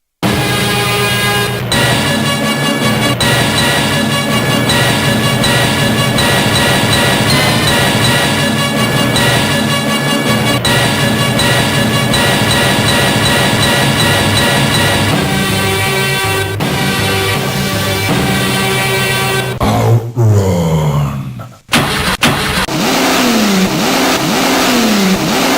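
Out Run video game intro by US Gold and Sega, with a synthesized car engine revving and accelerating over a continuous chiptune-style melody, loud throughout, briefly breaking into a noisy sweep near the end.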